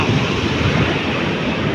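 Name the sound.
sea waves on the shore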